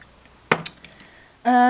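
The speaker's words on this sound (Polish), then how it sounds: "w takim szklanym e, pojemniku trzymam swoje pędzle" Makeup brushes clink against a glass container in a bedroom dresser, a few sharp light glassy knocks in quick succession, followed by a louder ringing tone.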